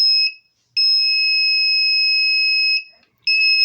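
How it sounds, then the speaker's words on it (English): The trouble buzzer on a Wezil 0001 fire alarm control panel sounds after the panel's power is switched off: a shrill electronic tone gives a short beep, holds for about two seconds, stops briefly, then resumes. "You can hear the buzzer going off."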